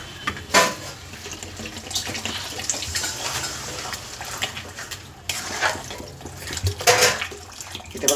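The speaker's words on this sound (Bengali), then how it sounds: "এবার এতে আমি সামান্য পরিমাণ জল দেব।" A little water poured into a pan of egg tadka, giving a close splashing hiss and gurgling bubbling with a few spoon knocks.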